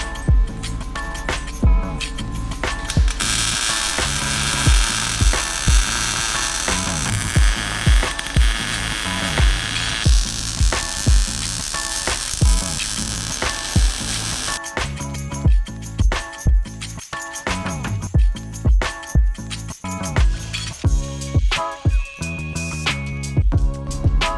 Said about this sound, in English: Getting all the cross members bolted in.